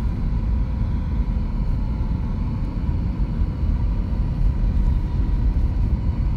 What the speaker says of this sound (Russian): моя тачка, конечно, просто на изи гребет. Еще у меня шипы стоят.